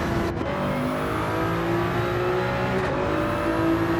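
Race car engine in Gran Turismo 7, holding a steady high-pitched drone on the main straight during a Nations Cup race, loud and continuous with only a brief dip, no talk over it.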